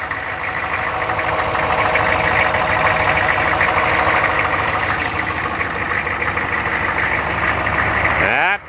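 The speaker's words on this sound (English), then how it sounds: "Creak, creak, creak. My misaligned alternator." A Chevy K5 Blazer engine idles steadily and loudly up close, with a rhythmic creaking from a misaligned alternator under the running engine, cutting off abruptly near the end.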